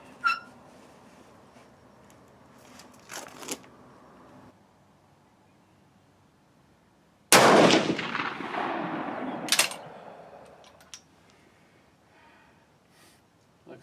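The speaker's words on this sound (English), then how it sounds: "So this first shot will be interesting." A rifle fires reloaded GP11 brass loaded with 168-grain bullets, one loud sharp report followed by a lingering outdoor decay. Quieter clicks and handling noises come before and after it.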